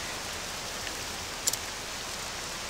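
Steady rain in Octopath Traveler 2 hisses evenly throughout, with a couple of faint drop-like ticks midway.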